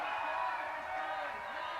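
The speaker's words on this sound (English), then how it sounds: "You can hear a big cheer in the background." A crowd cheers on a climber, Alex Puccio, during the women's bouldering semifinals at the 2016 IFSC Climbing World Cup in Vail. The steady roar of voices stays in the background for the whole stretch, with no clear peaks.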